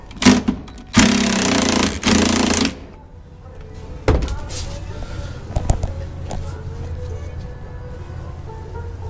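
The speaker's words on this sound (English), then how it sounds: "I'm gonna use my impact. You just loosen them up." An impact wrench loosens the hitch bolts on a 2005 Dodge Sprinter T1N during a Curt hitch installation, firing three short, loud rattling bursts. Metallic clanks and quieter handling noises follow.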